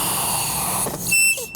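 A blown slime bubble lets out a sharp, high-pitched squeal like a smoke detector beeping, after a soft stretchy rustle of the slime; the shrill tone is brief and close, with no talking.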